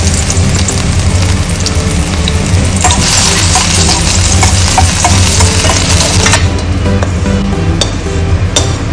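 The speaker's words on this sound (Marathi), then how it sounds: "आले लसूण बरे भाजून घेवपाक जाय।" Ginger and garlic roasting in a pan for a Goan clam masala, a loud continuous sizzle with brisk stirring and metallic clinks of a spoon against the pan, no speech.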